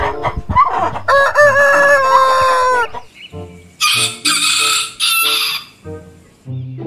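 A rooster crows loudly and close in a farm setting, a long harmonic cock-a-doodle-doo followed by a few shorter bursts of crowing and clucking, with no talk over it.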